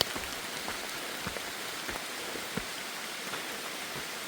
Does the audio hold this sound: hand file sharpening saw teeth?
no